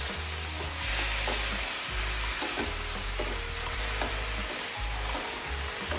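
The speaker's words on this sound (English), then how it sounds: "Turn down the heat to a more low to medium heat. And give that a bit of a stir around." Stuffed capsicum filling sizzles steadily in a pan over low to medium heat while being stirred, a continuous frying hiss with low scraping stir sounds running throughout.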